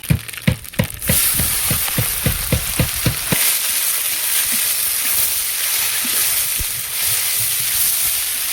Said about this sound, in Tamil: நல்லெண்ணெய் ஊற்றிக்கலாம் கடுகு வெந்தயம் போட்டுக்கலாம் வெங்காயம் போட்டுக்கலாம்